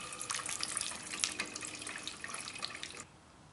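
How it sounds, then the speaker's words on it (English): A hot steel tomahawk head made from an old adze hisses and sizzles as it is quenched in warm oil, a close, steady bubbling crackle lasting about three seconds before dropping off abruptly. "and then quench it in warm oil"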